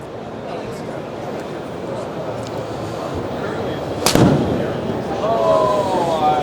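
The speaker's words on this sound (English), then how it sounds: "Can you hit a 9-iron shot?" A 9-iron shot struck on a TruGolf E6 Apex golf simulator at a busy PGA Merchandise Show hall: one sharp club-on-ball crack near the middle, loud and close, over constant crowd chatter and murmur.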